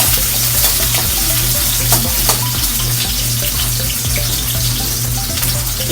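Garlic frying in a pan for a budget home-cooked dish: a steady, loud sizzle with crackling pops running throughout.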